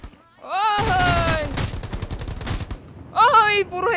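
Burst of gunfire from the shooter game Rules of Survival, rapid shots in a cluster under excited voices, followed by a shorter burst near the end.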